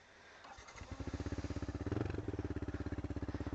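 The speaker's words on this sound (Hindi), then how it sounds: "और गाड़ी स्टार्ट करते हैं।" Motorcycle engine starting and settling into a fast, even idle thump, close and loud, recorded on a motovlog setup with a DJI Osmo Action 5 Pro before heading onto a main road.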